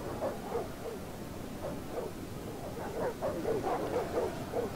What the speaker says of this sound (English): Attack, puppies!